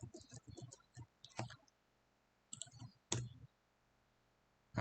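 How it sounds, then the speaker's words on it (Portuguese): Sharp clicks and taps from a computer keyboard in a quiet room, including a keypress of the Enter key, come in irregular short bursts separated by brief silences. "Apertei Enter sem querer aqui"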